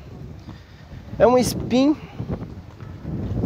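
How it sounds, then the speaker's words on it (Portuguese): At an outdoor used-car fair, wind rumbles low and steady against the microphone throughout, swelling again at the end, while someone speaks a short phrase over it. "vai ter muito barulho de vento hoje aí"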